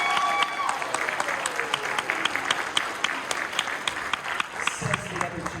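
An audience at a PAX East convention panel on vtubing claps steadily, a full, even burst of applause that holds for several seconds with a few voices rising above it.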